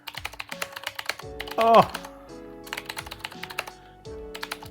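Clicky keystrokes on a Qwerkywriter typewriter-style mechanical keyboard, a close, rapid run of taps in uneven bursts with brief pauses, a short voiced exclamation partway through.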